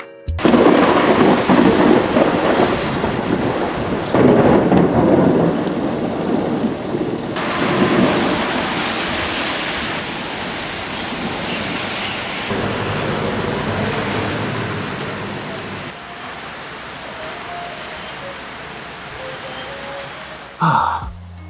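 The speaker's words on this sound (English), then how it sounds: "Unfortunately for me though, I arrived during a storm." Heavy rain pours steadily through a thunderstorm on arrival in Rarotonga, with loud rolling thunder and dense downpour filling most of the stretch before easing slightly, then a brief sharp burst near the end.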